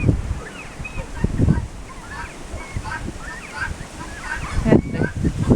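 Guinea fowl calling outdoors in a January blizzard, giving a series of harsh, scattered cries at moderate distance against constant wind noise, with low thumps and rustling throughout.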